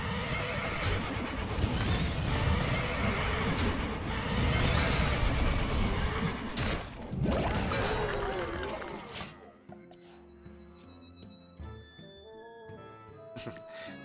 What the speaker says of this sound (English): All of these horses here.